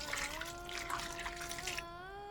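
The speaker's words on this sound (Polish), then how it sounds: "Do tego dolewam szklankę wody." A glass of water is poured over chopped cucumbers for spicy Thai-style pickles. The steady trickle sounds close and continuous, with a pitch that rises as the bowl fills, for about two seconds.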